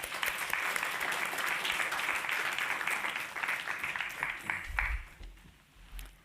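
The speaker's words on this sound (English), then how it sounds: "Let's give a big round of applause for Shamarishji." Audience applause at a Sri Ramakrishna birthday gathering with devotional singing, a dense sustained clapping from a crowd that thins and fades out over the last second or so.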